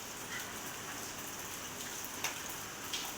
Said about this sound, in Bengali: এই যে বৃষ্টি পড়ছে